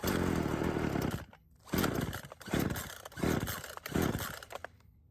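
An old Craftsman chainsaw that sat unused for years sputters through repeated start attempts, each a short rough burst of engine noise that dies away, a rhythmic pattern of about five bursts with no one speaking.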